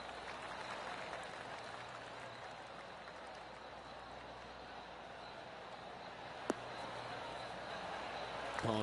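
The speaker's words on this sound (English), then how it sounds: "Oh, golf clap." Gallery crowd in PGA Tour 2K23 golf gives a soft, steady golf clap, a patter of many hands running the whole stretch at moderate level over a faint ambient bed, with one sharp click near the end.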